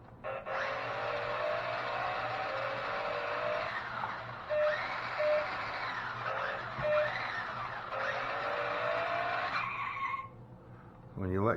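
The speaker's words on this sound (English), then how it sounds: "When you let go of the throttle, it makes a squealing noise like you're stopping." A Savage 4x4 off-road RC tractor whines steadily, with a squeal that rises and falls as the throttle is let off. The sound is close and loud, repeats several times, and cuts out near the end.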